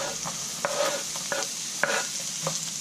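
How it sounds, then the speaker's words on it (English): Sliced onion sautés in a wok with a constant sizzle, while a utensil scrapes and taps against the pan in several distinct strokes close by, with no talking. "I've got one sliced onion and I'm just going to saute those"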